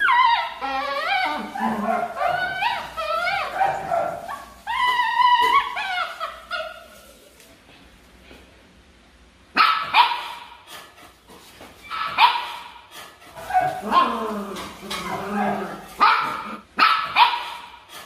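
Belgian Malinois guard dogs bark in repeated yappy bursts, loud and close, with a quiet gap midway before a second stretch of excited barking and yips.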